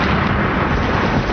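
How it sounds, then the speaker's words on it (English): Explosions set off on the set of the TV series Jericho give a brief, loud, dense rumbling blast that fills the whole short moment. "And then today there's explosions."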